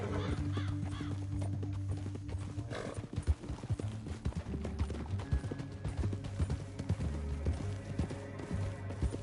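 Rhythmic hoofbeats of a galloping horse in Red Dead Redemption 2 over a steady musical score, with a brief whinny-like sound partway through.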